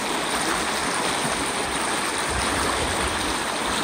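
A river in Idaho rushes and flows in a steady, continuous wash of broadband water noise, loud and close with no pauses and no voices.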